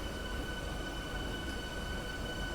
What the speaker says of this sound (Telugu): మన ట్రైన్ వచ్చేసి ఆన్ టైంకి అయితే వచ్చేసింది రామాపురంకి